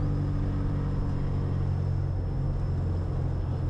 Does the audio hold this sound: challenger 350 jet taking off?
yes